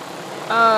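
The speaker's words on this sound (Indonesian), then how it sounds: "Kapan bisa kebeli ini drone? 180 juta untuk yang DJI Agri T40 ya kayaknya ya." A DJI Agri T40 agricultural spraying drone at a durian orchard, a steady mid-pitched rotor hum that rises abruptly into a louder, strongly tonal whine partway through, fairly close.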